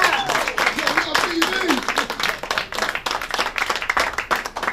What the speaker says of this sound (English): Please give a warm round of applause for She's Late.